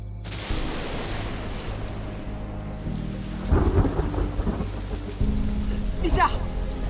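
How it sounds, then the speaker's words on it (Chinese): Rain falls steadily with heavy rolling thunder rumbling through, a storm heard close and loud with bursts of louder crackle. "陛下，要下雨了，咱们回去吧。"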